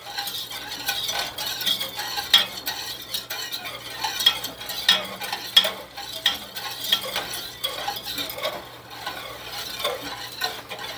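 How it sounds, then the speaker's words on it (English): A whisk scrapes and clinks rhythmically against a metal pot while stirring chocolate pie filling, a close, busy patter of strokes with soft liquid swishing and no voices. "And so we are going to whisk this."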